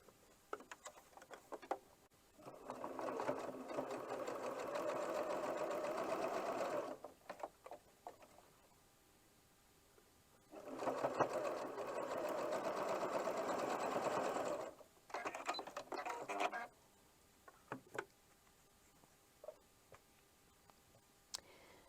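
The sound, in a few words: sewing machine stitching quilt block seam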